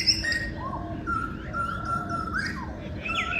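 Birds chirp and tweet in short, bright calls from several directions in a suburban garden in Melbourne, Australia, at 7 a.m. in autumn, over a soft low background rumble with no talking.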